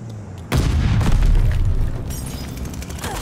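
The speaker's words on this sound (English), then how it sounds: "Friendly bombing run on the way." Bombing-run explosions in Call of Duty Vanguard hit with a sudden loud boom after a brief quiet lead-in, then roll on as a heavy rumble with further blasts, and no talk.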